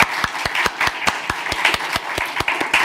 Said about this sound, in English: Please give them a round of applause for their contributions.